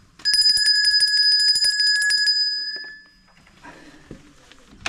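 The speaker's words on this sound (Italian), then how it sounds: "Suono io il campanello." A small bell at the door of a mountain refuge rings loudly in a rapid trill for about two seconds, then fades into quiet rustling nearby.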